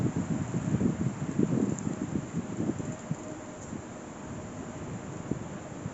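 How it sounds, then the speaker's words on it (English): Gusty wind buffets the microphone while someone walks around a cemetery on a chilly day. A low, rumbling roar swells and eases unevenly, loudest in the first two seconds and settling into a steadier hiss. "But I'm more concerned about the wind"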